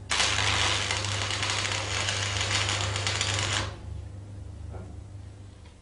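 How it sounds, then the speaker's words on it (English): Stick electrode arc welding a short tack weld of about 10 millimetres into a corner joint: a loud, steady crackling hiss for several seconds that then cuts off abruptly, leaving a quieter hum. "Strike the arc at the end and move inwards to make a tack weld about 10 millimeters long."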